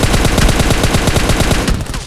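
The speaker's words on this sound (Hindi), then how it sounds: "पता नहीं ये ऐसी कैसी गन्स लेके मेरे को रश करने आ गया था, VSS और वेक्टर" Rapid automatic gunfire from VSS and Vector weapons in PUBG, a dense, loud, continuous burst of shots at close range with no talking.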